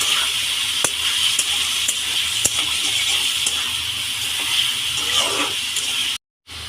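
Raw chicken with turmeric hisses and sizzles steadily in a hot pan in a home kitchen, a close, continuous frying crackle broken by a few sharp pops.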